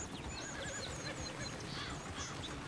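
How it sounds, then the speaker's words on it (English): A horse whinnies in a PS4 video game, a loud, clear neigh over a busy, noisy game background with some hoof clip-clop, and no talking. "Damn horses!"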